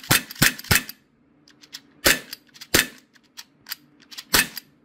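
A tan Sig Sauer P320 4.5 mm BB pistol with a rotary magazine fires sharp, close, loud cracks, three in quick succession, then two spaced shots and a final one, with lighter clicks and handling noises between.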